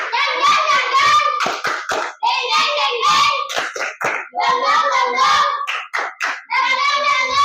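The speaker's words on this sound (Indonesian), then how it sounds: "Wah, suaranya tepuk semangat." Schoolchildren in a classroom perform a rhythmic spirit clap, loud bursts of patterned handclaps with chanting voices in repeated groups, a short pause between each phrase.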